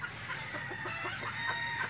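Asil Pakistan chickens, a rooster and hens, give a series of close, rhythmic clucks and soft calls over a steady background hiss.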